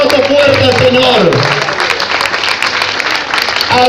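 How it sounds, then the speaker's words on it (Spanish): A Spanish-speaking church congregation gives loud applause during a sermon, dense clapping throughout, with a voice and some tonal sound over the opening moments before the clapping carries on. "den un aplauso fuerte al Señor"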